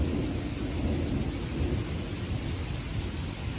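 Heavy rain pours steadily during a lightning storm with a deep, continuous thunder rumble beneath it, loud and enveloping throughout.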